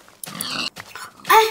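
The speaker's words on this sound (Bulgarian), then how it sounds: "И колко прасета има." Minecraft pigs grunt in two short bursts, with a brighter squeal-like oink near the end, close and fairly loud in the game with no talk over them.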